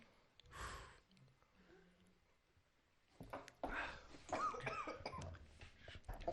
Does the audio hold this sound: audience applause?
no